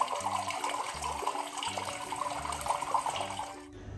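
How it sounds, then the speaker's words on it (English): Rainwater pours steadily into a garden water tank after rain, a continuous close splashing and trickling flow with faint rhythmic low pulses and no voices. "the sound of the water tank filling up is always a hopeful sound"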